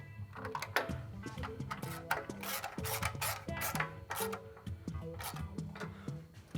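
Ratchet wrench tightening bolts on a CBI rear bumper being installed on a Chevrolet Colorado ZR2 truck, giving steady close-up clicking in quick repeated bursts with no talking.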